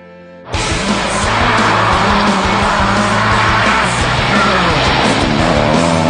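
A Subaru S11 WRC rally car at a rally in Cheshire bursts in loudly and keeps going at full power, its engine roaring steadily with tire squeal over a harsh, sustained, close-up drone.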